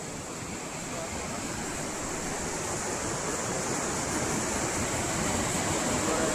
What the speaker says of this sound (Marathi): हा, पाण्याला फ्लो भरपूर आहे.